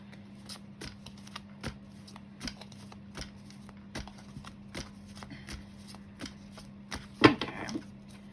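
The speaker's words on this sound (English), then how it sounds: "I'm going to pull out 6 tarot cards to kind of see what the universe has in store for you" Tarot cards being shuffled and drawn, a run of soft, regular riffling ticks and light card snaps near the mic, ending in one sharper slap, with no talking.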